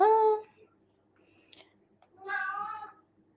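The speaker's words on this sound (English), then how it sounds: "I'm sorry if you can hear my cat." A pet cat meows in a quiet room, one clear meow at the start and a second longer meow after a pause, soft and close.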